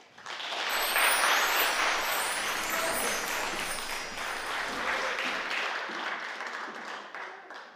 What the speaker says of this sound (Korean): 여러분들의 아주 큰 박수가 필요하겠습니다